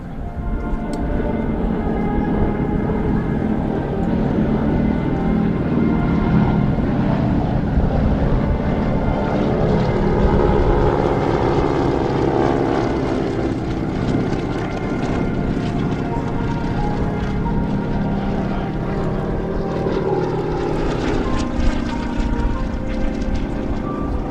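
World War II trainer aircraft fly in formation at the 2017 Wings Over Houston air show, a steady loud propeller-engine drone with wind buffeting across the whole stretch.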